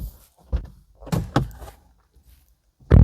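A Volvo EX30 car door shuts with a single solid thunk near the end, preceded by a few softer knocks and handling sounds nearby, with no talking.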